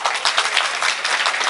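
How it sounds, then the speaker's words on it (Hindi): Lively applause from a workshop audience, dense rapid clapping sustained at steady loudness for the whole stretch, close and continuous with no voices standing out. "आपके बैच के लिए जोरदार तालियां।"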